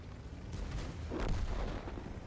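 Tank cannon fire in World of Tanks, with a booming shot rising around the middle of a short stretch of low rumbling battle noise. No voices are heard.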